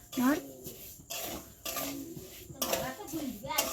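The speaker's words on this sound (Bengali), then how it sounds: "এই যে চিনিটা জল দিয়ে এখন নেড়ে নেওয়া হচ্ছে" Sugar and water are stirred in a cooking pot, with intermittent scraping and clinking of the utensil against metal under a person talking.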